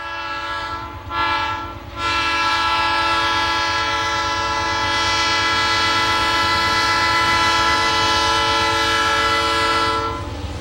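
A Green Bay and Western freight train, with double-stack containers and cabooses, roars past, its horn blaring loud and close in long sustained blasts over a heavy rumble of rolling wagons, briefly broken near the start.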